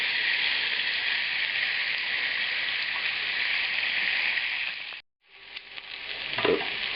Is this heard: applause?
no